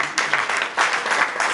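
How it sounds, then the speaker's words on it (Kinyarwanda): Wedding guests at a religious church ceremony break into dense applause for the newly married couple, a steady crowd of clapping hands that surges twice and holds loud throughout. "Munyemerere mwese rero"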